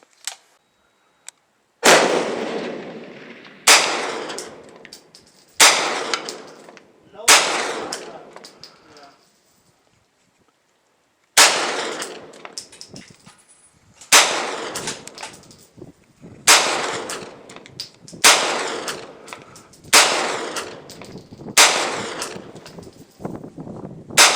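A Ruger PC-9 9mm carbine is fired at a steel target, about a dozen sharp, loud shots at a measured pace with a gap midway, each followed by a brief echoing decay.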